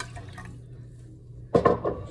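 A homemade drink being poured into cups: a short, close liquid splash and glug starts after a quiet pause, with faint trickling earlier.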